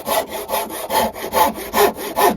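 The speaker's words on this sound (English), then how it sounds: "You can use a rasp. And draw file, it's called, across the lumps." A rasp is draw-filed across lumpy wood held in a vice, six or seven loud, rhythmic rasping strokes in quick succession, close and alone with no talking.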